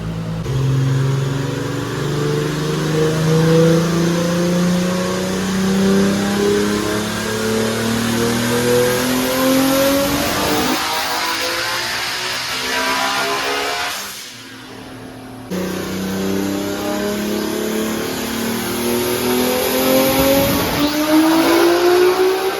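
A supercharged 1UZ V8 in a Lexus SC400 revs hard and sustained on a dyno, pitch climbing in long sweeping pulls, drops briefly, then roars back up again at high volume.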